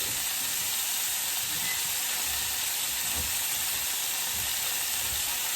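Steaks frying in a pan after being flipped give off a steady, loud sizzle and hiss that goes on the whole time, close by, with faint low thumps underneath and no one talking.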